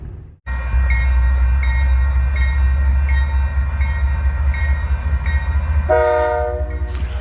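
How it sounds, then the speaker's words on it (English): A Union Pacific double-stack freight train rumbles past close by, a loud steady low roar that kicks in abruptly after a brief silence, with horn-like tones sounding near the end. "it was a stack train heading to Boone"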